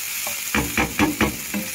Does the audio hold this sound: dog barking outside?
no